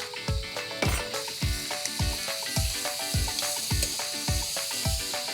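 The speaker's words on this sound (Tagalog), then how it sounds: "we brown our meat" Duck meat browns in a pan with chunks of ginger for tinola, giving a steady hissing sizzle with regular low thumps and clatters recurring about twice a second.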